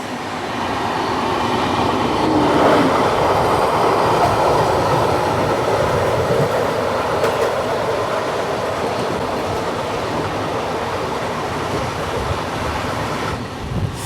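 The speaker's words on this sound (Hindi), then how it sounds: "crossing Tatanagar Itwari express" The Tatanagar Itwari Express passes close by on an adjacent track, a loud continuous rumble with wheel clatter that holds steady for the whole stretch.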